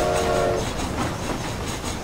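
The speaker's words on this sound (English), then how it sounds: "This train headed for Mexico?" A train rolls along steadily in Red Dead Redemption: Undead Nightmare, a loud continuous rumble of rail wagons with a brief horn-like tone near the start and no talk.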